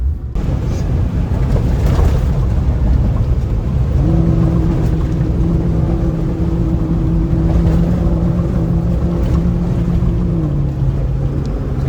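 A Jeep's engine drones loud and steady while it drives off-road through a run of bumps, and a sustained humming tone joins partway through; no one speaks.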